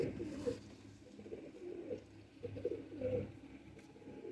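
Breeder pigeons coo softly in low, throaty rolling phrases, heard faintly and somewhat distant with a little background noise and no talking.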